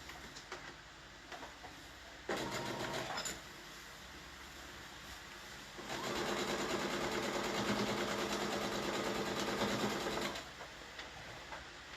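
A sewing machine stitches a quilt block seam in two bursts, a short run and then a longer steady whirring stretch, close but fairly quiet, with no talk.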